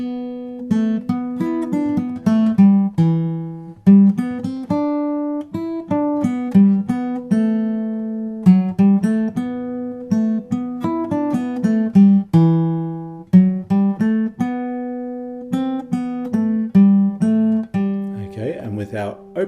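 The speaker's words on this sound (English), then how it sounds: "So here's the melody, fretted notes." Guitar melody picked on fretted notes, a slow sequence of single plucked notes ringing and decaying one after another, clear and close, with a brief rustle at the end.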